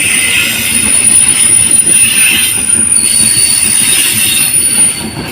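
The Taksaka passenger train rolls into Cibatu station in Indonesia on track 4, steady and loud, wheels squealing on the rails with a rumbling clatter, easing off near the end.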